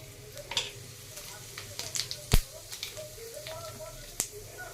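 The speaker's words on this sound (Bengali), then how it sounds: "আমি এবার শুকনো লঙ্কা আর জিরে ফোড়ন দেবো।" Dried red chillies and cumin seeds hit hot oil in a home kitchen, giving a steady close sizzle broken by sharp crackles and pops, the loudest burst near the middle.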